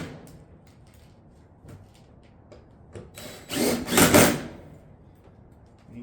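Fasteners being driven into barrel vault roof panels with a power driver, light taps and clicks followed by one louder whirring burst of about a second and a half near the middle, close by.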